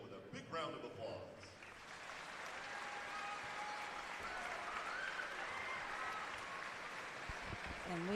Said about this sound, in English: Let's show our appreciation to them with a big round of applause